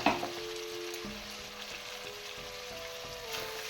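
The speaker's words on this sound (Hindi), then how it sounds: "अभी इसको सिर्फ हिलाना है और फ्राई करना है" Chicken fries in a pan for a village-style Assamese dry fry, a steady close sizzle with stirring scrapes over a faint background tone.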